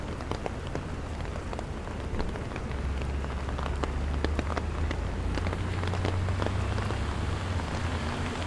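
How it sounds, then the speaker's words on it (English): Steady rain from Tropical Storm Henri falls on the streets of Manhattan, a dense continuous patter with sharp drops striking nearby surfaces and a low rumble of wind underneath. "It's just gonna be a slight rain and"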